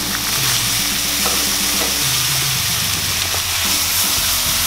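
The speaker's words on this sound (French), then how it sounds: "déglacez légèrement vos champignons avec un petit peu de sauce soja" Mushrooms browned for about ten minutes and deglazed with a splash of soy sauce, hissing and sizzling loudly and continuously in a hot pan, with faint stirring.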